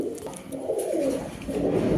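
A female white Hungarian Budapest pigeon gives a soft, low, throaty coo that rolls on continuously at close range.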